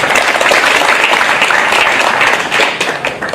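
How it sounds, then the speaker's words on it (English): An audience at a library project summit breaks into applause, a loud, dense wash of many hands clapping that holds steady throughout, with no speech over it. "We can have a round of applause for her, please."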